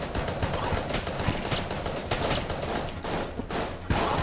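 Rapid, continuous gunfire from Enter the Gungeon, a dense fusillade of sharp repeated shots with scattered louder bursts and no pauses.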